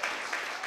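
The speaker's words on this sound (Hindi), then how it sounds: "क्या जोर से और भी जोर से ताली बजा सकते हैं आप?" Church congregation clapping during a Hindi-language praise service: a brief burst of dense, steady applause from many hands, close and fairly loud, no talking.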